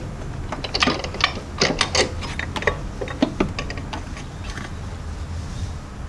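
An old engine mount is worked loose from a Mitsubishi Inspira/Lancer, with loud, close metallic clunks, creaks and ratcheting clicks in irregular bursts over a steady low workshop hum.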